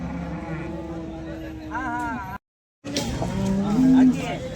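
Cows lowing at a busy cattle market, several drawn-out moos heard up close amid crowd chatter and people talking, with a brief gap of silence in the middle.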